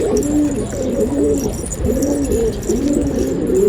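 A pigeon coos repeatedly up close, soft rolling calls in a steady rhythm over faint background noise.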